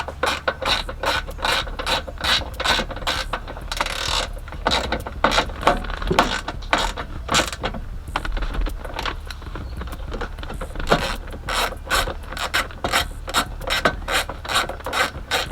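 Ratchet clicking in short repeated bursts while tightening four glove box bolts inside a Cutlass under restoration, close and fairly loud with steady rhythmic ticking throughout.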